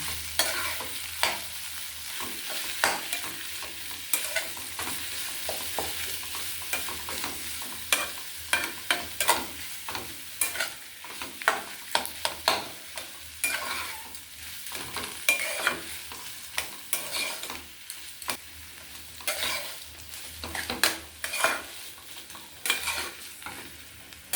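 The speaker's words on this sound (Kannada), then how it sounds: "ಈಗ ಚೆನ್ನಾಗಿ ಫ್ರೈ ಮಾಡೋಣ ಸಿಮ್ಮಲ್ಲಿಟ್ಕೊಂಡು ಚೆನ್ನಾಗಿ ಫ್ರೈ ಮಾಡೋಣ" Food fries gently in a pan on low heat while being stirred, probably the potato filling for masala dosa, with a soft steady sizzle and repeated sharp scraping and clinking stirring strokes close by.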